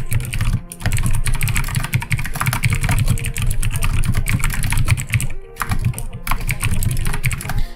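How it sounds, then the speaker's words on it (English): Rapid, steady typing clatters on a computer keyboard, close and fairly loud, with brief pauses between bursts of keystrokes and no speech. "So I'm gonna start typing and it's gonna get a little loud"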